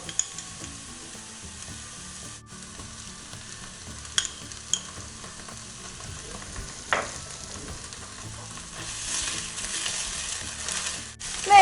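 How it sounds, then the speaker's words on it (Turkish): Onions and tomato paste sautéing in a pan for a spinach and egg dish, a low steady sizzle with a few scattered scrapes and knocks of stirring, near and moderately loud, with no voices. "Soğanlar kavrulduktan sonra şöyle bir tatlı kaşığı kadar da domates salçası ilave ediyorum."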